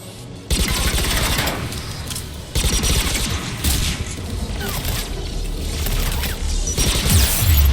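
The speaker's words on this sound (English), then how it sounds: "One of us has to shut down that AA gun, Shepard." Heavy anti-aircraft gun fire in the Mass Effect 3 mission on Rannoch, a dense, sustained fusillade of loud booming bursts with rumbling low end that pounds on nearly continuously for several seconds.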